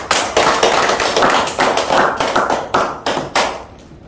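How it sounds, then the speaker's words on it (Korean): A small group of people at a theology lecture give a short round of clapping, with distinct sharp claps in a loose, uneven rhythm that thins out and stops after about four seconds. "박수 한번 드리면 좋겠네요"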